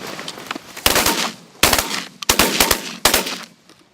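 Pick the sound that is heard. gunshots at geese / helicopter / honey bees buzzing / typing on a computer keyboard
gunshots at geese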